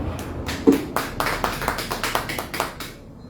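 An audience claps along at an evangelical church service closing a prayer campaign, a steady run of sharp, moderately loud claps in quick rhythm lasting a few seconds, with no voices over it.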